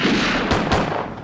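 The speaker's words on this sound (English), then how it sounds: "I thought the idea was to run away from gunfire." Two sharp gunshots crack in quick succession, close and loud, each with a short echoing boom over a noisy background, with no speech.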